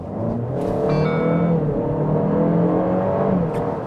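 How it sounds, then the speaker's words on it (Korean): A Cadillac XT4 with a 2.0-litre twin-scroll turbo engine accelerating, a loud steady engine drone with rising tone and turbo whir heard from inside the car, with no talk. "그래서 가속 페달을 조금만 깊게 밟아도"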